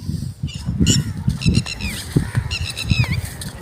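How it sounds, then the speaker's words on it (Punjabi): Geese honk repeatedly outdoors in farm fields in Punjab over a noisy background, with several birds calling in short bursts. "ਪੰਛੀਆਂ ਦੀਆਂ ਆਵਾਜ਼ਾਂ ਸੁਣ ਰਹੀਆਂ ਨੇ"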